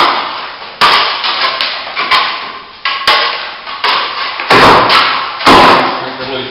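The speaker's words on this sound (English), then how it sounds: "get the loose bits of cement and mortar out" Loose plaster and mortar are knocked off a wall in sharp, loud thuds and cracks at an irregular pace, with crumbling debris rattling between the hits, close by.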